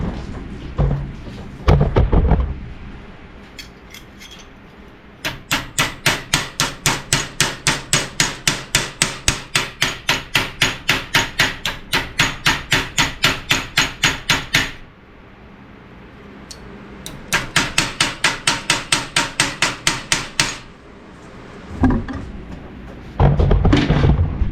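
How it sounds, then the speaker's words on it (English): A hammer taps repeatedly on a wooden door being patched, two long runs of rapid, evenly spaced blows, loud and close, with heavier knocks at the start and end. "I'll probably have to tap that with the hammer."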